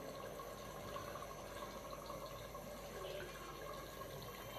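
Half a cup of water is poured into a pot of daal chana and browned chicken, a quiet, continuous splashing trickle at low volume with no voices.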